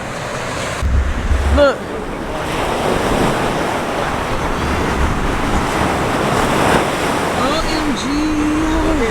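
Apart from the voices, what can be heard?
ocean waves and surf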